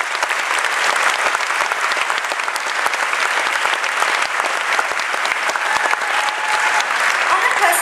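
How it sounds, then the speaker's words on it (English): A large audience at a Nanyang Polytechnic graduation ceremony in 2011 bursts into sustained, dense applause, loud and steady for the whole stretch with countless overlapping claps and no voices on top. "please join me in showing our greatest appreciation to these wonderful people with a round of applause"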